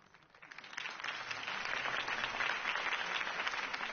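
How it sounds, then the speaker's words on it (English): A video game crowd in Batman: The Telltale Series breaks into applause at a campaign speech, rising quickly from quiet to steady, sustained clapping at a moderate distance. "If only Mr. Wayne, my campaign's largest backer, could have heard that applause"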